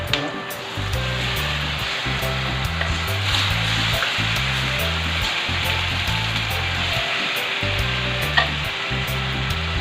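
Meat for batchoy sizzles and fries in a pot with onions, a steady loud crackling hiss with intermittent stirring scrapes and clinks, close up and continuous with no talking.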